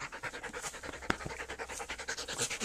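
A dog panting rapidly with its tongue out, close by, in a steady quick rhythm of breathy huffs, with one brief sharper sound midway.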